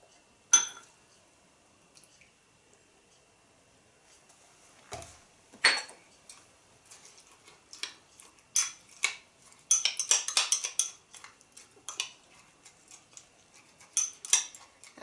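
Oats and cream being mixed in a bowl: a faint clink first, then scattered spoon taps and scrapes building into a busy run of small clicks and wet stirring, close and quiet.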